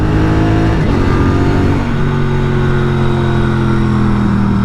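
A 2023 Norton Commando 961 SP motorcycle engine revs hard while pulling away and climbs in pitch, a steady high-powered roar that drops briefly at a gear change before pulling on.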